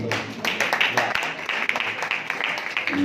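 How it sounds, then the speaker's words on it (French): Audience at a French-language inter-university tournament in Kenya applauding in a continuous, moderately loud patter of many hands, with faint voices mixed in. "Applaudissons pour lui"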